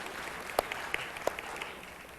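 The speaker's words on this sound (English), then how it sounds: "we can give him a round of applause for that" An audience in a church service applauds, a soft, fairly distant patter of clapping with a few sharper individual claps standing out.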